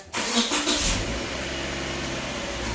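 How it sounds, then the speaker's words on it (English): A 2015 Subaru Impreza engine cranks and catches, a brief starter whir followed by a quick rev that settles into a steady, close idle. "I'm going to have to start the car and throw it in reverse."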